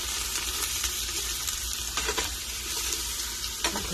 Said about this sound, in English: I'm going to put the mushrooms in and saute them lightly